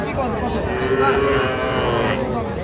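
Cattle, including young bulls and calves, moo in a lowing call at a busy livestock market, heard close and loud over a constant background of crowd talk.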